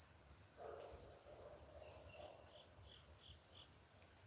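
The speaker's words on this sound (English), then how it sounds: "Oh, there's some chirping." Steady high insect chirping fills the background, with softer pulsing trills repeating throughout, a continuous night chorus at moderate distance.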